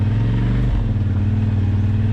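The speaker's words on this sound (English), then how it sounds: "I believe this is the best sounding exhaust on the RZR yet" The stock exhaust of a Polaris RZR XP Turbo gives a deep, steady rumbling drone close by, with a brief dip in pitch before settling back to an even pulse.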